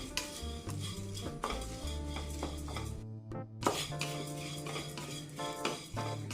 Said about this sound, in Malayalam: ഇതേ പാനിലേക്ക് തന്നെ ഞാൻ മുക്കാൽ കപ്പ് അവിലിട്ട് കൊടുക്കുന്നുണ്ട് ഒന്നിളക്കി കൊടുക്കണം